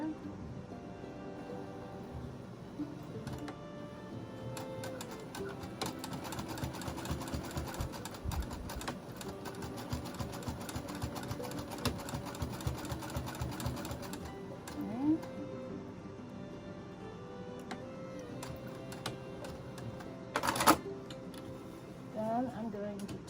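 A sewing machine stitches across a large fabric shopping bag with a fast, steady mechanical whirr and ticking needle rhythm for about fourteen seconds, then stops, followed by quieter handling noises and a sharp click.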